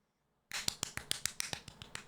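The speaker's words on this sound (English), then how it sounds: "Clap it." Crisp hand claps, about a dozen in quick, fairly even succession, close and sharp, at a game showcase, starting abruptly from silence with no voices.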